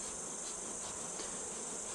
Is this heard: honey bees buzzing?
yes